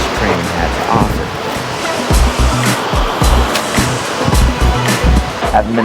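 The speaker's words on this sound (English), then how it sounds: "I haven't been this close to a waterfall in a while." A Norwegian waterfall roars as a broad, steady rush of water heard from a train, with low thumping rumbles underneath and voices talking over it.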